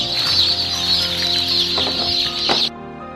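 Hens clucking and murmuring in a dense, close flock, a steady chorus of overlapping calls with a few sharper squawks before cutting off abruptly.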